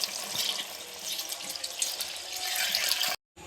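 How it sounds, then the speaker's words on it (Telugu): Water poured into a pot for biryani, a continuous rushing splash at close range that runs steadily for about three seconds before cutting off, with no one speaking. "ఇప్పుడు ఈ వాటర్ని ఇందులో యాడ్ చేస్తాను."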